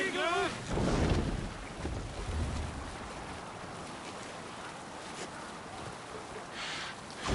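Wind and rushing water surround a sailing ship at sea in a video game, a steady broadband whoosh across the whole stretch with a brief voice and creaking near the start.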